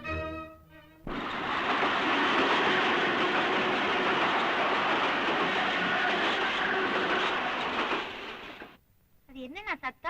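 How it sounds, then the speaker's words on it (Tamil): An electric train runs close by, a loud, steady broadband rumble and rattle that holds for about eight seconds before cutting off, with brief voices at the start and end. "பக்கத்துல எலக்ட்ரிக் ட்ரெயின் ஓடுது."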